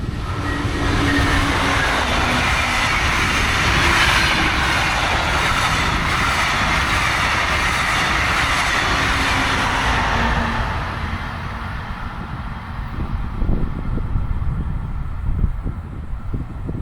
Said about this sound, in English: Here we have the America 250 train, passing a portion of my newly made custom model of the same train.